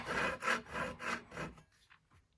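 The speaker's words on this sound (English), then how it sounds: "I'm going to take the end of my knife and again, dimple it in so my knife runs smooth across it" Rough scraping of a drywall knife's end pressing and dimpling into drywall, a handful of rhythmic rubbing strokes close by before fading to quiet.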